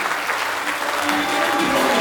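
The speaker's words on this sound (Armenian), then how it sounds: "բարձր ծափերով հրավիրում ենք մեր զույգերին" Applause greeting a newlywed couple at an Armenian wedding, many hands clapping loud and steady through the whole moment.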